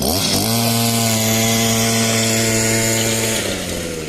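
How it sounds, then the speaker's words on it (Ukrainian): Homemade motor cultivator converted from a brush cutter, running in cultivating mode: a loud, steady two-stroke engine drone with a strong harmonic whine that holds continuously, then dips in pitch near the end. "от зараз подивимося в режимі культивації, як воно працює мотоцепа в режимі культивації"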